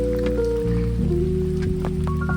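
Rain pours steadily onto flooded farm fields beside village houses, a continuous close wash of patter with a low steady tonal hum running underneath.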